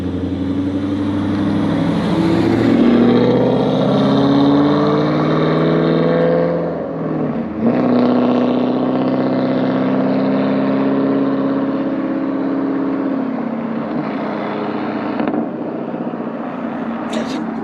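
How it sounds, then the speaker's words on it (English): A Pontiac G8 rumbling past in a drive-by, its deep exhaust drone rising and falling as it accelerates, loud and steady for most of the stretch, with voices talking over the engine. "First up, we got the G8. He's gonna do some light drive-bys, then some medium drive-bys, and then a heavy drive-by."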